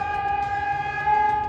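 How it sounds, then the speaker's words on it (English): Civil defense warning siren sounding in Poland, a steady sustained wail holding one pitch with harmonics, continuous and fairly loud for the whole moment. "Across Poland, warning sirens echoed through multiple regions"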